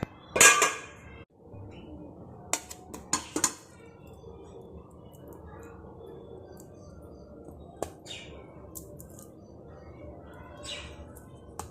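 Steamed bottle gourd muthiya are lifted out of a pan in a home kitchen with a few sharp metallic clinks and clatters of utensils, while birds chirp faintly in the background.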